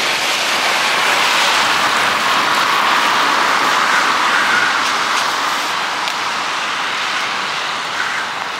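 Busy road traffic with lorries passing in Leicester, a steady loud broadband roar of engines and tyres that holds throughout with no talk.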